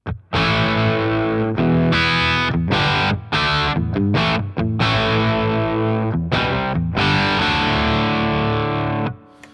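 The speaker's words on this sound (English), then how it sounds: "This is the sound of the guitar with a bit of reverb in the crunch" Crunchy, overdriven electric guitar chords through a Greer Amps Gorilla Warfare MK2 pedal ring out with reverb, strummed in bursts with short breaks, loud and close.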